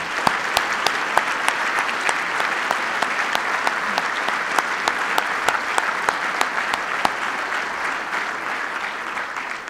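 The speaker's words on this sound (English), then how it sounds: "If you could please stand, and let's give them a round of applause." A sustained round of applause at a chamber of commerce annual dinner in Wooster, steady clapping from a seated crowd with a few sharp, distinct claps near the microphone punctuating the even roar throughout.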